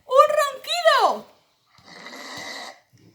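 A voice imitates snoring in a children's story, giving a long, drawn-out vocal snore followed by a softer, breathy rasp, close and clear with no other sound around it.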